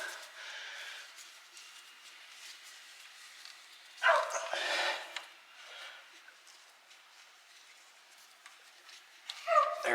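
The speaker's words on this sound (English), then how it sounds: "That dog needs to stop." A dog barks and whimpers indoors during work on a Chevy Express axle with an open differential, with sharp yelps near the middle and end over a steady background of shop noise.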